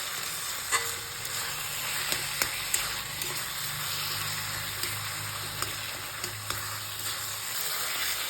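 Pumpkin mash with green chillies, turmeric and salt is stirred in a pan, giving a soft, steady sizzle. Quiet clicks and taps of the spoon against the pan come at irregular moments.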